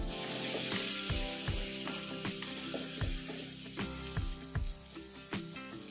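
Curry leaves fry in hot oil with finely chopped tomatoes, producing a continuous close sizzle punctuated by a regular series of dull stirring thumps and scrapes against the pan.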